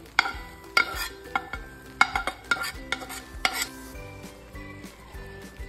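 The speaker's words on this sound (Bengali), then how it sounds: "ডালের সঙ্গে এবার ডিমটাকে খুব ভালোভাবে আমি মিক্সড করে নেব" Fried egg being stirred into cooked red lentil dal in a metal pot, with a series of sharp spoon scrapes and clinks against the pan over a soft background sizzle, close and alone with no talking.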